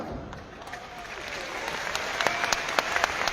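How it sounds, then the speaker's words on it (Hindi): Audience clapping at an RCM event, a dense steady patter with sharper claps standing out toward the end, moderately close and brief. "इन लोगों की तालियों से इस बात का एहसास होता है"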